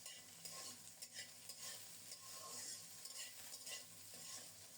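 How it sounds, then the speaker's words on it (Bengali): Small cut potato pieces, washed and seasoned only with salt, fry in a pan, giving a steady close sizzle with clinks and scrapes as they are stirred, with no voices. "দুইটা আলু ছোট ছোট করে কেটে পরিষ্কার করে ধুয়ে নিয়ে শুধু লবণ দিয়ে ভেজে নিচ্ছি"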